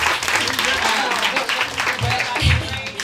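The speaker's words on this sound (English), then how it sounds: "y'all clap for Dexcom" A crowd at a caregiving panel event claps for a sponsor, dense continuous applause filling the room with a voice or cheer mixed faintly underneath.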